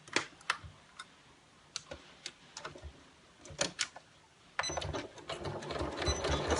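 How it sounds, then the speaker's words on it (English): A sewing machine back stitches through about four layers of fabric on a simple pencil case, giving scattered ticking clicks at first, then a continuous close, loud mechanical whirr of rapid stitching from midway to the end. "Before you get to the end, back stitch, and I go all the way back and then come back again"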